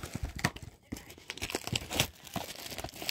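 Trading card blaster box torn open by hand, a burst of close crinkling, tearing cardboard and wrapper rustle in uneven bursts.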